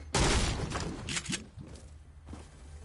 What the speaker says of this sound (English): I definitely hear more gunshots outside.